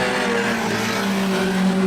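Roar of several junior sedan race cars passing at speed down the back straight at Rockhampton Speedway, a continuous loud drone with shifting pitch and no voices.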